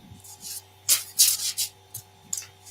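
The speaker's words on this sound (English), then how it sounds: "Somebody shuffling cards." Short papery riffling bursts, several in quick succession with pauses between, like playing cards being shuffled nearby over a faint steady hum.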